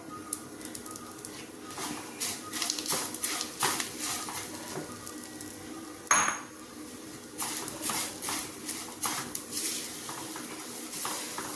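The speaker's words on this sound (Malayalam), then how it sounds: "നല്ലതുപോലെ ഒന്ന് ഇളക്കി കൊടുക്കാം" A curry leaf pickle mixture is stirred in a pan, giving repeated clinks and scrapes of a spoon against metal in an uneven rhythm, with one sharp knock midway, fairly close and without talk.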